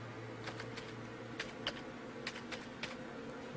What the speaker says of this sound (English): I'm going to type in the word precept again